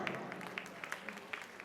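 Guests at Akbar and Sherin's wedding reception clap for the couple, a light, scattered patter of hands at a modest distance over a soft background murmur.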